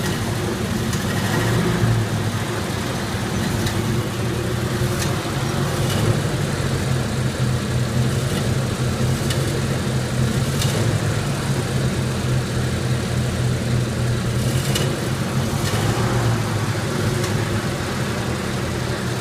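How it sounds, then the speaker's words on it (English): A steady engine hum runs the whole time, a low constant drone with faint rattles and clicks on top, no talking. "just get the sound of that motor while it's outside"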